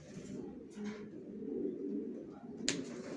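Racer pigeons of the Johnson line, sold in pairs, coo softly and continuously at close range in a low murmuring stream, with a brief sharper click near the end.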